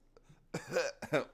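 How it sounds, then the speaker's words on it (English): A single short cough followed by a second throaty burst, close and fairly loud in a quiet room. "Elbow cough."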